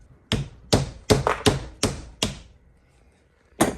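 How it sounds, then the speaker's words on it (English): Mallet knocking a misalignment spacer out of a King shock eyelet held in a bench vise: six sharp, evenly spaced knocks, a pause, then one more blow, close and dry. "I'm going to take a mallet and I'm going to knock it this way"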